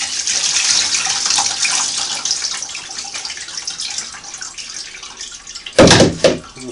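Water from a dipper is poured over a Singer 301A sewing machine to rinse it, splashing and trickling at close range, then a couple of louder bursts near the end.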